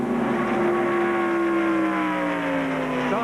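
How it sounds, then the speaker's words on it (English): The No. 4 NASCAR Winston Cup stock car, fitted with a different exhaust system, races at Daytona during the 1995 Pepsi 400. It gives a loud, sustained high-pitched engine whine that dips and then rises again near the end. "It has a very high-pitched whine to it, the 4 car does. He has a different exhaust system on this car than does all the other cars here."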